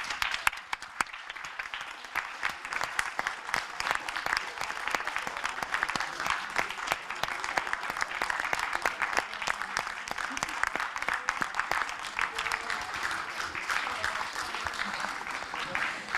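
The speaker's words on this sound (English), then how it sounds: "So please, a huge round of applause." Sustained applause from an audience congratulating master's student teams after their final defence, a dense steady wash of many hands clapping at moderate distance, continuing without a break.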